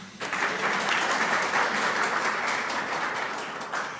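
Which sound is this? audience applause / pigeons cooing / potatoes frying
audience applause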